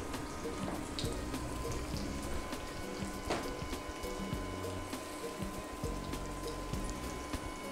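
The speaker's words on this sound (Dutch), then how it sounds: "Mijn water is gekookt. Die doe ik bij de mihoen." Freshly boiled water poured over rice vermicelli in a bowl, a soft, steady trickle and splash running continuously at low volume with faint drips and clinks.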